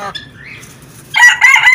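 Backyard chickens in a small home mini zoo give a brief squawk at the start, then a loud, close burst of clucking and crowing calls at the end.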